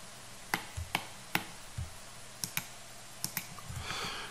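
Crisp, separate clicks of computer keyboard keys being pressed, around ten taps at an irregular pace, close and fairly quiet over a faint background hum.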